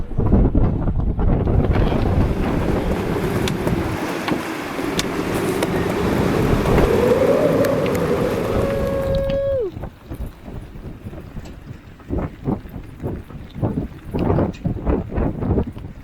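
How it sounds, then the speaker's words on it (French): Strong wind buffets a microphone aboard a sailboat for several seconds, then drops away, leaving water sloshing and spattering against the hull. "Il y a du vent."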